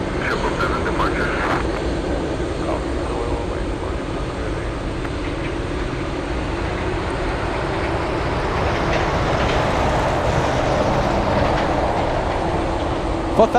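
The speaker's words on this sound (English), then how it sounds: "please hold for the 777 departure" A Boeing 777 departing from Anchorage airport, a loud sustained engine roar that swells slightly toward the end, heard under ongoing talk.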